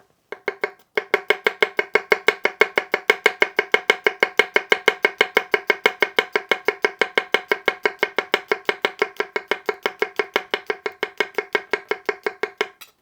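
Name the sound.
bunka knife tap-chopping garlic thinly on cutting board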